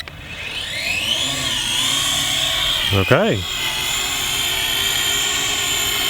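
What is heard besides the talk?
Syma X8SC camera quadcopter drone flying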